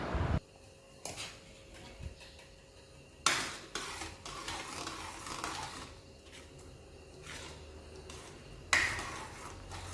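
Urad dal is stirred in a pot after green coriander goes in, with a few sharp utensil knocks against the pot separating quieter stretches of scraping and simmering.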